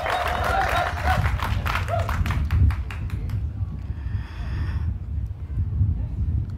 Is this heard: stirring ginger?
no